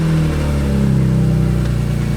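A BMW E46 M3 engine starting after an O2 sensor install, running with a deep, rough idle and a slight rise in revs, close and loud, with no talking.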